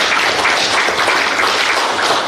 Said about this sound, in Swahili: Hongereni sana, tuwapigie makofi.